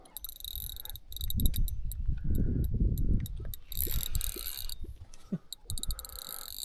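Frogs croak in a rattling, ratchet-like chorus beside a fishing boat, close and fairly loud, with sharp high clicking insects chirping in bursts around them.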